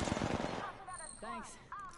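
Bursts of automatic gunfire from a nearby firefight in Apex Legends, a few rapid cracks up front followed by quieter distant shots, with a voice briefly talking over it.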